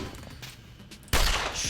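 Shotgun fire in The Pit video game: a quiet stretch with faint clicks, then one sudden loud blast near the end that rings on with broad noise.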